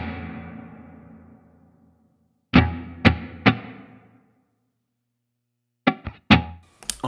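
Guitar notes run through a Helix dynamic room reverb effect: a decaying tail fades out, then a few sharp plucked hits ring with short room ambience, separated by silence.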